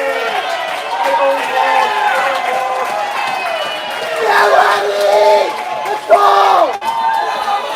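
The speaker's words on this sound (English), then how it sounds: "We'll be getting some Lenny cheers here in the away crowd" Spectators at a high school varsity hockey game at Walsh Jesuit keep up loud, sustained cheering and shouting after a goal, with swells of crowd noise and a louder burst near the end.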